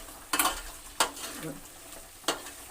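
Masala frying in a pan for chicken saaru with ground coconut and mutton saaru powder, a steady soft sizzle under three sharp stirring scrapes of a spoon against the pan, close and alone.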